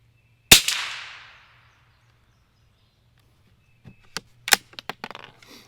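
A single loud, close crack from a Winchester 67a .22LR single-shot rifle fired at a 35-yard target, with a brief ringing decay, then a few seconds later a cluster of metallic clicks as the action is worked.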